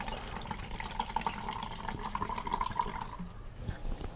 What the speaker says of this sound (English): In a pot, and I'll put a little bit of water with that.